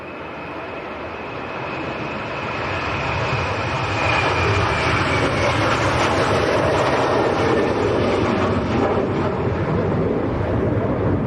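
A Boeing 737-800 jet engine roars and builds steadily to a loud, sustained rumble as the aircraft powers up for takeoff at Leeds Bradford Airport during Storm Amy, with wind noise throughout and no talking.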